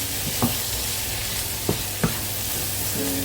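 Prawns frying in a pan for a pumpkin and prawn poriyal give off a steady, close hiss of sizzling, broken by a few soft scrapes from stirring.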